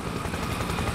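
Helicopter in the Spec Ops: The Line video game approaching, a steady loud rotor and engine roar that fills the whole second without a break, with no speech over it.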